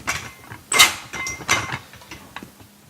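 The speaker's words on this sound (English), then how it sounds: "you pull it open until it clicks" Rock and Roller DJ cart frame pulled open, metal creaking and scraping in short bursts with a sharp clank and a few small clicks, close and loud, no talk.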